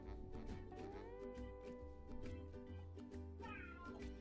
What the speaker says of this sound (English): Hi, Gary. Meow.